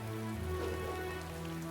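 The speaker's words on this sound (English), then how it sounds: "it's raining over here" Rain falls steadily in Metaphor: ReFantazio, a soft, even patter of drops on surfaces, quiet and continuous, mixed with faint tonal background hum and no voices.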